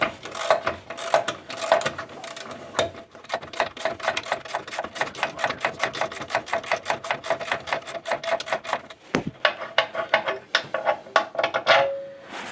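Ratchet wrench clicking rapidly in long runs while a 15mm motor mount bolt comes off a 2008 Ford Fusion, close and sharp, with a brief pause near the end.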